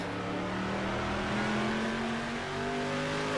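Touring car engine revving steadily in the rFactor 2 racing sim, an Aussie Legends touring car mod, with a continuous loud drone and pitch rising gradually as the car accelerates through a lap.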